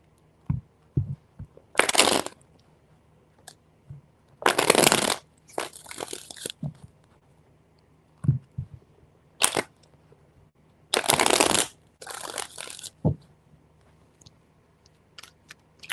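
Several bursts of rapid riffling from cards being shuffled, each lasting about a second, with quiet handling taps between them.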